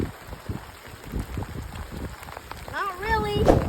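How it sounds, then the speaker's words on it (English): Rain falls steadily on a surface outdoors on a crappie fishing trip, a dense patter with scattered drops, while a voice speaks briefly near the end. "this rain is getting ready to get heavier"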